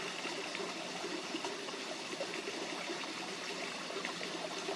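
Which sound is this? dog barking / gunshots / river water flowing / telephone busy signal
river water flowing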